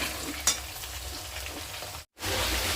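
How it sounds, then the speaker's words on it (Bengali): A pan of mixed vegetables, ridge gourd among them, sizzles steadily in oil up close, with one brief clack near the start and a short drop to silence before the frying resumes. "অলরেডি ভাজা আরম্ভ হয়ে গেছে।"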